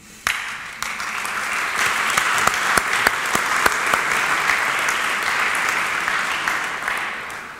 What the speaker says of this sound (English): I think we all have to applaud them once again in order to thank them